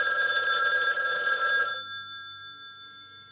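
A landline telephone in a kitchen rings loudly and close, with a shrill, steady bell tone that cuts off abruptly partway through, leaving faint room hiss.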